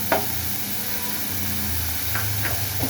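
Green chillies fry in ghee for ragi adai, a steady close sizzle with a couple of light spatula scrapes against the pan.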